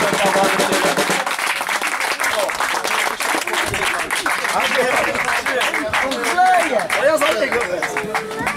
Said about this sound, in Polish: Wielkie brawa dla Pawła.